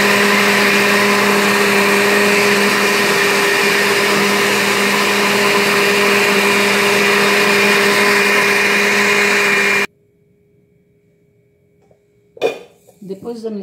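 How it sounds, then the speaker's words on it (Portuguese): A kitchen blender mixing homemade bread dough ingredients runs loud and steady with a constant whine for about ten seconds, then cuts off abruptly, followed by a short quiet gap and some clattering handling noises. "Agora você vai bater tudo até misturar bem."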